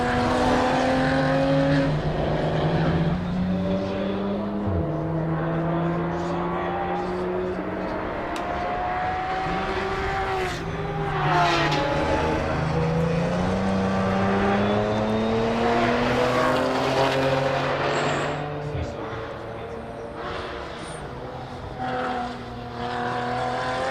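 Race cars on a circuit in Riga, led by the number 92 Porsche GT3, engines screaming loudly and rising and falling in pitch through gear changes as cars pass close by, with a commentator talking over them.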